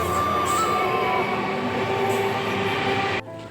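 A train rolling along with a loud, steady rumble and a drawn-out metallic tone, then a sudden drop into near quiet at the end.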